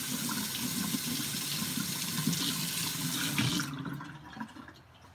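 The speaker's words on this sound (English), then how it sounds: "Let me rinse off that spoon." Tap water runs steadily in a kitchen sink as a spoon is rinsed while holiday cooking, a close, continuous splashing stream that cuts off near the end.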